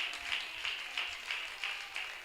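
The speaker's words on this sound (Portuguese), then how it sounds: "As palmas exaltam e glorificam o Senhor." A church congregation claps hands in praise in a steady, rhythmic beat of roughly two claps per second, even and moderately loud across the whole stretch.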